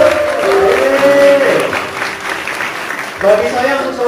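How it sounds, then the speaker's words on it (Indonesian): Applause from an audience at the opening of a BPN class session, a fairly loud, steady wash of clapping under a lingering voice, easing off midway and then swelling again briefly. "Boleh dong tepuk tangan yang masih single?"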